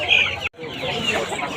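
Farm chickens clucking at a busy Friday market, close and fairly loud, a short burst of calls with people talking nearby.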